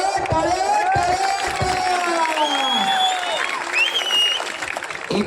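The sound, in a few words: crowd applause at a wrestling match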